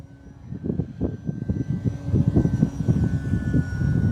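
Arrows Bigfoot 1.3 m RC model plane held at full throttle, its engine a steady, continuous drone with a pulsing, uneven texture that grows slightly louder over the stretch, with no talking.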